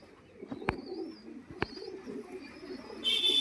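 High-flying Madras and black-green pigeons coo in a low, continuous, rolling murmur nearby, with two sharp clicks early on and a brief rise in hiss near the end.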